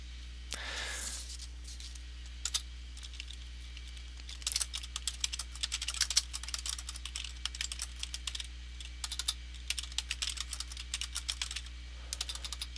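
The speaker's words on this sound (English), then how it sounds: "begin typing in what we know for our first lesson." Typing on a computer keyboard, starting after a brief rustle and then running as a steady stream of close, crisp key clicks with short pauses, including backspace presses, all without any voices.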